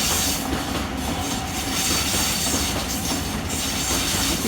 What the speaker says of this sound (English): Waratah Series 2 set B14 for a Leppington via East